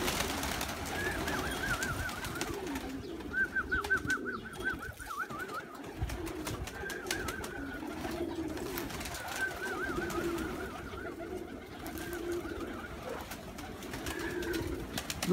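Pigeons, including a black-tailed bird, coo repeatedly on a rooftop, their soft warbling calls rising and falling in short bursts over steady outdoor background noise.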